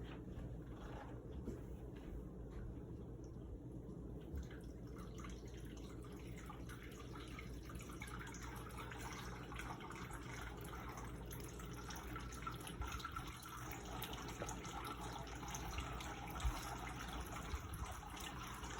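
Water pours steadily down a homemade six-foot cascading bird fountain, spilling from cup to cup outdoors, with a constant faint trickling and splashing wash that continues without pause.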